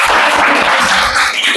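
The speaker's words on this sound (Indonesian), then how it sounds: "Kita kasih aplaus dulu buat semuanya." A classroom of students applauding, dense continuous clapping that stays loud and close for the whole short moment, no talking.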